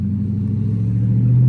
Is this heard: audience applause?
no